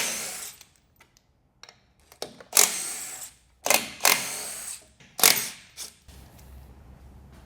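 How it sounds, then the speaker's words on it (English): A socket wrench with a 15 mm socket removes bumper bracket bolts on a 2024 GMC 2500/3500 truck, giving a series of close, sharp ratcheting bursts and clicks with brief pauses between. "We're going to take out these little brackets here that held the bumper with a 15 millimeter socket"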